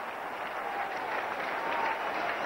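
A cricket ground crowd applauds the Indian captain with steady, dense clapping that holds an even level throughout, distant and wash-like, with no voices standing out.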